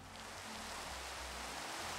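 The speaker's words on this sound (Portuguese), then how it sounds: "Tá chovendo na minha ilha, velho." Rain in Minecraft on an island map gives a steady broadband hiss, fairly loud and unbroken, with a faint low hum underneath and no one speaking.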